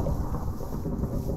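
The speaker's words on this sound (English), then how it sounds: "Wait, why is it thundering?" Deep, rolling thunder rumbling through a video game scene, a heavy low-pitched roar lasting throughout with a faint rain-like hiss.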